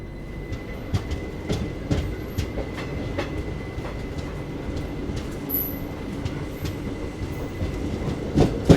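Intercity Express train pulling out of Surendranagar Junction in India, a steady rolling rumble with repeated clickety-clack wheel beats on rail joints, heard from onboard at moderate level with no talking.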